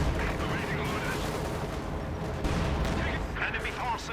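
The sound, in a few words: Kanonenvogel strafing with 37mm cannons in Company of Heroes 2 video game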